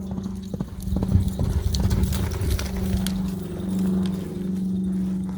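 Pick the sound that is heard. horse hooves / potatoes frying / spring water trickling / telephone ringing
horse hooves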